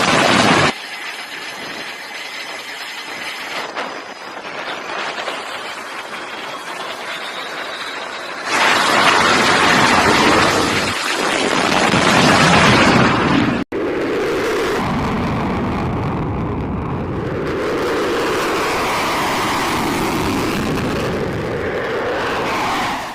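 Fighter jets roar during airstrike footage, a loud, rushing broadband roar that swells and fades in several abrupt, edited segments, with no voices over it.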